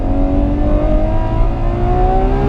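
Ferrari 812 Superfast V12 on a track, engine droning loud and steady with rising pitch as it pulls through gears, continuous close cabin sound with no talk.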